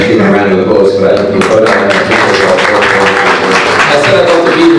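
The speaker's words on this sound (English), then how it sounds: "I think we should give him a round of applause for that." Steady clapping from a press-conference crowd runs throughout at close range, mixed with a murmuring background and occasional voices.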